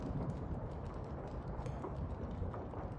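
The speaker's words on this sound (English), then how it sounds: "I can hear something. Oh, steps." Rhythmic footsteps approaching, a steady, faint run of clopping steps under a muffled, noisy background with no talking.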